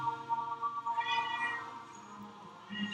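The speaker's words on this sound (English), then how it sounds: "the cats are going crazy right" Cats meow and yowl close by in a long, wavering, tonal run that swells in the middle and then trails off, with a fresh cry starting at the end.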